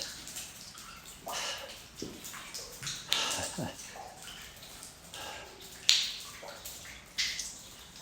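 Scattered water drips land one by one into mud and puddles at irregular intervals, some sharp and close, others softer, echoing slightly in a quiet, hollow cave in Assynt, Scotland.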